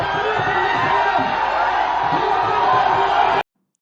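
A large crowd at a political rally cheers and shouts continuously, a dense loud roar of many voices that holds steady for over three seconds and then cuts off abruptly.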